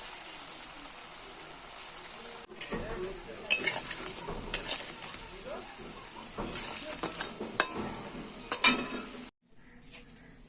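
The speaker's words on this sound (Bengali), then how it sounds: "কড়াইয়ে তেল গরম হয়ে গেছে, বড়াগুলো ছেড়ে দেবো।" Raw banana kofta fritters dropped into hot oil in a kadai, giving a crackling sizzle broken by clinks and scraping stir sounds, with irregular louder bursts and a brief drop near the end.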